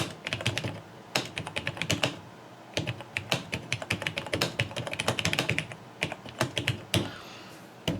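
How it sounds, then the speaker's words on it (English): A TRS-80 Model 100 laptop's built-in keyboard is typed on quickly, giving bursts of clattering keystrokes with short pauses between runs, close up and clear, with no talk. "I actually learned touch typing on something like this, but I'm still making some typos on it."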